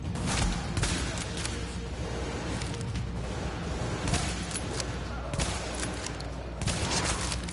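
Gunfire in Tom Clancy's The Division, with bursts of shots and booms spread across several seconds at moderate loudness, mixed with game background noise.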